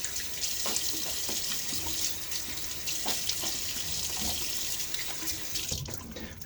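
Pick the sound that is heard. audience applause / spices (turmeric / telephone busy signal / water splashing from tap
water splashing from tap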